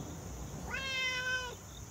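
A feral stray cat outdoors near a new outdoor cat tower gives a single clear, drawn-out meow, fairly close, with no talk over it.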